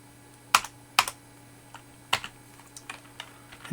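Code typed on a computer keyboard, with a few sharp isolated key presses followed by lighter, scattered taps, close and clear with no talking.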